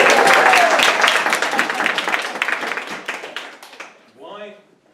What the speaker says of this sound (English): Why have you applauded?